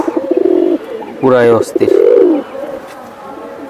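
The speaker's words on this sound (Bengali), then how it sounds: "এটা বেজি কবুতর।" Bezi pigeons at a market stall coo in low, rounded bursts, several calls close by and moderately loud, overlapping with voices talking nearby.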